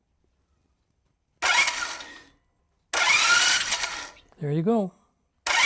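After the start button is pressed, a motorbike's newly installed rear wheel whirs up twice in short, close mechanical bursts, and then someone speaks briefly.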